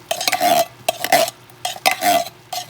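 A utensil scrapes gravy into a pan of cottage pie filling in four short, close rasping strokes separated by brief pauses.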